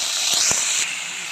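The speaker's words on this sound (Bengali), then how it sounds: "ফোড়নটা ভাজা হয়ে গেছে, এখন সবজিটা দিয়ে দেবো।" Cut vegetables drop into hot oil tempered with five-spice and dried red chillies, a burst of bright hissing sizzle with a couple of soft knocks, settling to a steady hiss.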